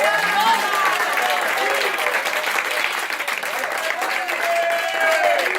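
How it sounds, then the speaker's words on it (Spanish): Church congregation applauding loudly, dense sustained clapping throughout with voices and shouts mixed in. "Dale fuerte el aplauso al Señor."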